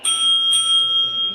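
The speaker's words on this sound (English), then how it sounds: "When your time is up, you'll hear this bell." A bell rings out at a televised candidates' debate to mark that a candidate's answer time has run out, two bright metallic dings, the second about half a second after the first, with a sustained shimmering ring that lingers alone.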